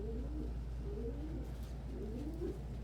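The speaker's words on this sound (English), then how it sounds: "Ringneck doves are viciously territorial and completely antisocial." Ringneck doves coo in a soft, low, rolling series of repeated calls, close and steady with no talking over them.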